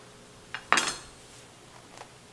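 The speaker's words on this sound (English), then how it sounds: "So I'm holding the slices so it makes it easier to cut." A knife cuts through bread slices held in a checkerboard pattern for a meat lovers pull-apart loaf. A few short, crisp scraping taps sound up close, one stronger than the rest, with no talk.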